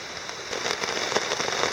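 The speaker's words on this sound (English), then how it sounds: "Slow and steady rain." Light, steady rain falling on a backpacking tent in a Pennsylvania state forest, a close, even patter of drops tapping on fabric with no thunder.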